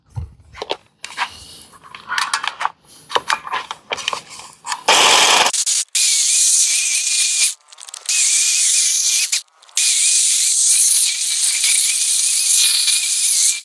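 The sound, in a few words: hedge trimmer cutting a Fukien tea bush hedge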